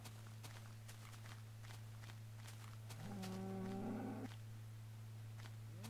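A cow in the video game Minecraft gives a single drawn-out moo lasting about a second amid soft, repeated footstep clicks over a steady low hum.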